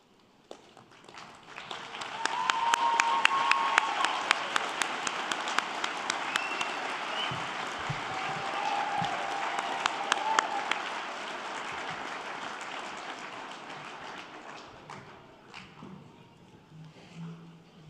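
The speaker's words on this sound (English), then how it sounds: "Students, I invite you to stand and join me in giving a round of applause to those" A standing audience at a lineman college graduation ceremony claps in a long, even round of applause that swells after a quiet start, holds steady, then slowly fades, with scattered sharper claps close by.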